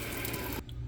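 Water pours into a pot holding rice and melted butter, a brief full splashing rush that stops abruptly partway through.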